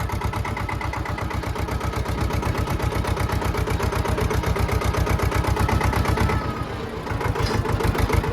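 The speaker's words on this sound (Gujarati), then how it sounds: "આવી ગયા છે આપણા મિત્રના ટ્રેક્ટર" A friend's tractor fitted with a Punjabi-style umbrella sound system runs at idle nearby, a loud steady rhythmic engine chug that holds throughout with a brief dip near the end.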